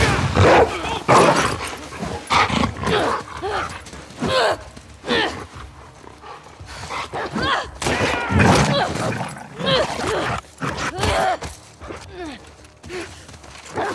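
Dog barking and attacking in The Last of Us Part II, loud repeated barks, snarls and yelps in close bursts mixed with game struggle sounds and grunting voices throughout.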